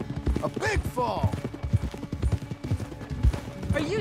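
A galloping horse in Red Dead Redemption 2, with rhythmic thudding hoofbeats under frequent talking, occasional whinnies and some gunshot-like bangs.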